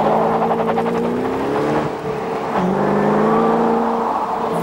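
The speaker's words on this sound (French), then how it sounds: "Voilà, tout est là dans cette sonorité d'un V8 au cœur gros." Ford Mustang Shelby GT500 V8 engine revving up, steady loud rumbling tone rising in pitch, dipping briefly near the middle, then climbing again, close and continuous with no talk.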